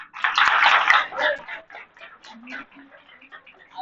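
Applause for sanitation workers at a ward training and kit distribution event, a burst of hand clapping that fades into scattered claps under nearby voices.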